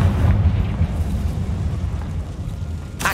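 Confringo explosive spell blasting in Hogwarts Legacy: a continuous heavy booming rumble that holds for a few seconds and ends in a sharp crackling burst, loud and close, with no talking.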